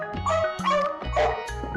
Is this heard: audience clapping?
no